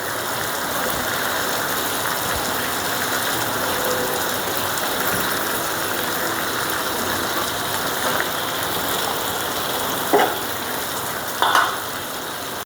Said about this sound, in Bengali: চাক্কা চাক্কা জালি, তেলে ভেজে চিংড়ি মাছ দিয়ে ভুনা